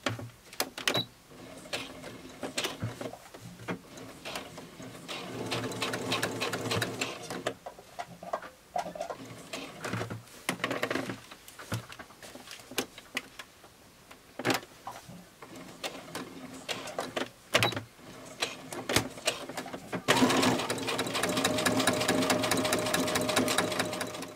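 Sewing machine stitching a fabric wallet, rapid mechanical needle chatter in bursts that start and stop, with short pauses between runs and a louder continuous stretch at the end.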